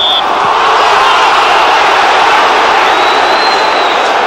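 Football stadium crowd at West Ham versus FC Metz in the 1999 Intertoto Cup roaring after an away goal: a loud, steady wash of cheering and applause filling the whole stretch without letting up.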